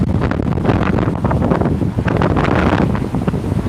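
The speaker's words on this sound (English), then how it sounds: "How windy it is." Strong gusting wind on Blackpool seafront during Storm Eunice, roaring and buffeting straight into the microphone without a break, loud and close, with a hint of surf behind it and no voices.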